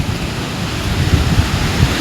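Swollen Himalayan mountain river running high with snowmelt beside village fields, a steady close rushing roar with a low churning rumble and no voices.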